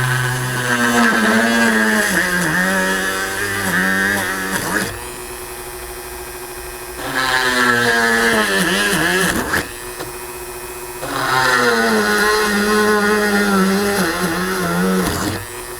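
A drill fitted with a 1/8 inch bit in a build bay whines loudly in three separate bursts of several seconds each, its pitch shifting within each run, with quieter pauses between them.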